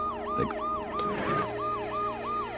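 Wailing ambulance siren from the video game Dead Synchronicity, rising and falling in a steady repeating sweep, loud and continuous, with a couple of brief thuds underneath.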